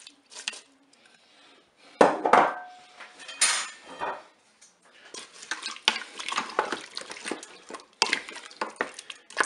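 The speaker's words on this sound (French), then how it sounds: "On va maintenant ajouter les carottes," Carrots and Paris mushrooms tipped into a Cookeo multicooker pot, with clattering knocks, scraping and stirring against the metal bowl in irregular bursts, moderately close and with no talking.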